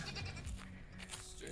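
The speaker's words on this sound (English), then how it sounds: "Oh, I just heard the goat." A goat bleats amid steady outdoor background noise, the call fairly faint and somewhat distant.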